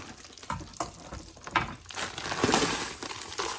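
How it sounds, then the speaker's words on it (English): Bell peppers and parsley tipped into a hot pan and sautéed, giving a soft sizzle with irregular stirring clatters and scrapes that build toward the middle. "So we're gonna pour this in, and we're gonna start sauteing it and add some salt and pepper."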